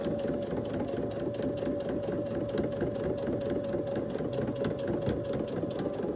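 A sewing machine stitches a pelmet curtain over pins, a close, steady rapid whirring with a rattling motor rhythm that runs throughout without a break and no talking.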